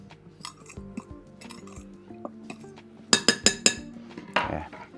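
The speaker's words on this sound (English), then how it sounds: "I'm going to give them a quick stir through in the bowl" Dry keto bread ingredients stirred quickly in a bowl, light scraping and clinking of a utensil against the bowl, ending in a few sharp, louder taps and a brief rattle.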